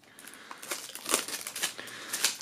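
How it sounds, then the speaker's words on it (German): Plastic shrink-wrap film being peeled and crinkled off a music album jewel case, a close, quiet series of irregular crackles and rustles with no talking. "Auch das werden wir mal aus der Folie holen."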